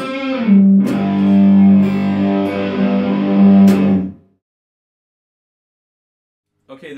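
An electric guitar with heavy distortion and effects plays a riff as loud, sustained chords for about four seconds, then cuts to silence before a faint sound returns at the end.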